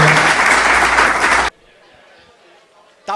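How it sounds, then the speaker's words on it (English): Loud audience applause at a Milano Cortina 2026 Olympic Winter Games roadshow event in New York, filling the room for about a second and a half before cutting to near quiet with a faint murmur and a brief thump. "Please join me in another round of applause for all of our guests here."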